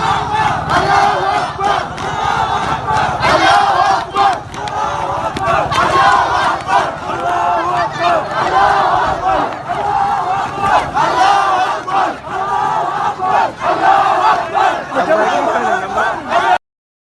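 A large crowd of protesters shouts and chants continuously in Sokoto, Northern Nigeria, with dense overlapping voices and cries forming a loud, sustained roar throughout.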